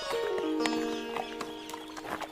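A horse's hooves clip-clop at a steady walking rhythm across a bridge, fairly close, with a faint whinny and no talk over it.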